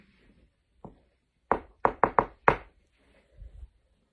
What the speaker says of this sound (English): I'm gonna make a knocking noise.